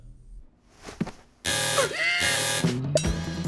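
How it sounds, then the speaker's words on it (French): An alarm switches on in a French-dialogue cartoon, a loud sustained electronic tone with a descending swoop that starts abruptly after a quiet lead-in and holds steady for about two seconds. "Alarme activée."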